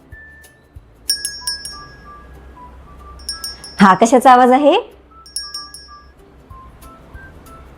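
A bicycle bell rings in a few separate bright metallic dings spaced across quiet pauses, while a voice speaks briefly in between.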